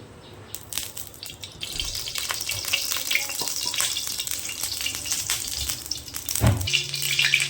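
Mustard oil pours into a hot wok (kadai) for a fish curry, and a steady close hiss and sizzle builds and carries on, with a few light knocks and no speech.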